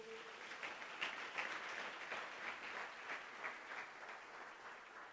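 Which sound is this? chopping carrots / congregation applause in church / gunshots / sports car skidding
congregation applause in church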